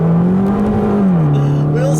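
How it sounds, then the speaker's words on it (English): 2016 Fiat 500C Abarth with an automatic gearbox accelerating hard on a wet straight road, a loud, droning exhaust note holding a steady pitch, dipping briefly then climbing again as the revs rise, heard from inside the car. "Let's give it some gas and see how it does."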